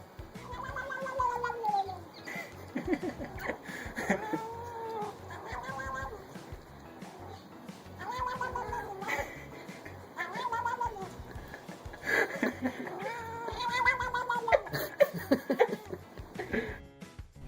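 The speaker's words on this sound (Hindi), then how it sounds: "जब बिल्लियों को उनकी पूंछ के पास वाली जगह पर छुआ जाता है तो वो एकदम से अजीब आवाजें निकालने लगती है" A cat lets out odd, strained meows and caterwauling yowls when touched near the base of its tail. The calls come in repeated close bursts through the whole stretch, with some faint talk in the background.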